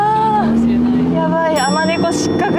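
A Lamborghini's engine revs up under hard acceleration, rising and falling in pitch, loud and close from inside the car, with voices talking over it.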